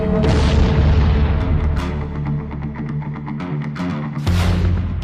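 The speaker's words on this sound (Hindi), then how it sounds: "ईरान के बैलिस्टिक मिसाइल हमलों से दहल उठा बेरशेवा।" Heavy booms from Iranian ballistic missile strikes hitting the city of Beersheba, Israel, loud, dense and sustained, with a sharp fresh blast burst near the end and no talk.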